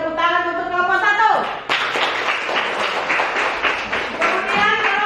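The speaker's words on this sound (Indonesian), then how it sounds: "Untuk selanjutnya kita beri tepuk tangan untuk kelompok 1." A classroom audience claps for a student group after its presentation, a dense burst of many hands following a brief tonal voice at the start and holding steady close by for several seconds.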